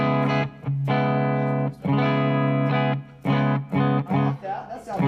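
Electric guitar through a Kemper profiling amp loaded with a Matchbox Chief Train profile miked with an SM57, playing sustained distorted chords in short phrases separated by brief gaps, with no talking over it.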